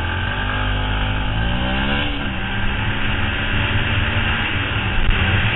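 A Yamaha WRX125 motorcycle ridden on a ring road among heavy traffic, its engine droning steadily with a loud, continuous roar of wind and road noise and a slight rise in pitch as it accelerates.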